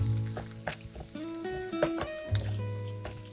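Small pieces of chopped onion are tossed and fried in a pan for capsicum rice, giving a crackling sizzle with clatters from tossing. A sustained tonal hum runs underneath.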